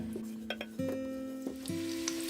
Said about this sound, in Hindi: जैसे ही ऑयल गर्म हो जाए तो आपने इसमें आलू डाल देने और इनको फ्राई कर लेना है।